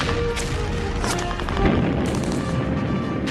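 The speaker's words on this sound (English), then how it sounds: "Then opened fire." Gunfire and heavy booms from commandos opening fire on a German coastal gun battery during the Dieppe raid, a dense, continuous barrage of thuds and cracks with no clear gaps between shots.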